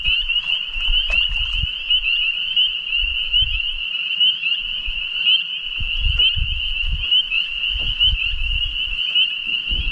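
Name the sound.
spring peeper frogs calling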